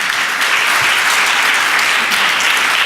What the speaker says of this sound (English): So can we just give them another round of applause?